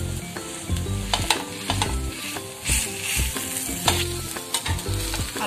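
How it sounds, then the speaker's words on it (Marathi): Onion and tomato masala roasting and being stirred in a pan for masala amboli, with a steady sizzle and repeated scraping stirs at a close, moderate level and no talk. "तो सर्व बाजूंनी असं छान खरपूस असा भाजून घ्या."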